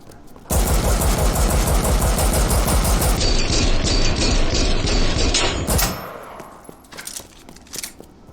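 Dual-wielded Matilda pistols fire in a rapid, continuous stream of loud, close shots for over five seconds in Resident Evil Re:Verse, then give way to scattered clicks and lighter mechanical sounds.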